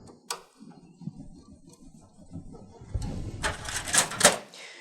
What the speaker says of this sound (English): you can put your 3 cover screws back on